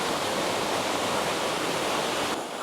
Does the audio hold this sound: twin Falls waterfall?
yes